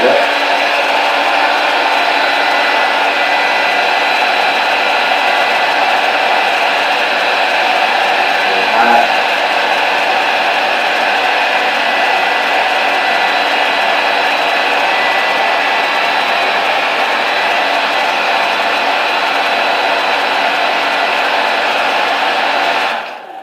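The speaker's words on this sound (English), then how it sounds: "So we're going to heat up the holster. You might not be able to see the blow dryer because the cord is a little short." A blow dryer roars steadily and loudly at close range while heating a Kydex plastic holster, a constant rushing whine that barely changes for over twenty seconds before cutting off at the end.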